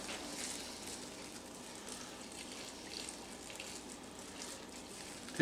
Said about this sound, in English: And we're going to add 1 cup of water.